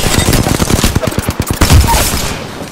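Rapid, loud automatic gunfire from Apex Legends Season 2 fills the scene as dense, continuous bursts of close shots with no talking.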